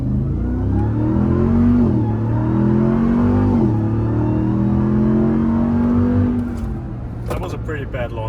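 Loud engine roar builds as a 707 hp Dodge RAM TRX pickup launches and accelerates hard, rising pitch through gear shifts heard from inside the cab, easing off near the end with brief clicks.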